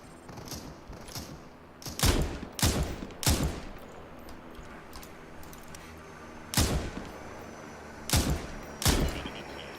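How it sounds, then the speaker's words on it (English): Gunshots in the battle-royale game Super People crack out in irregular bursts, some doubled, over a constant hum of in-game ambience, with no talk. "Something is shooting at me."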